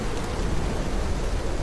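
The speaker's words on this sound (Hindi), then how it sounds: "इस तेज बारिश ने मेरे चारों तरफ एक मुश्किल पैदा कर दी थी" Heavy rain pours as a dense, steady roar that fills the whole moment at close range, with no voices over it, set as an effect in a Hindi horror audio story.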